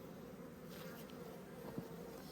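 Honey bees hum at an opened hive during a late winter inspection, a soft, even drone close by and faint, with a brief knock partway through.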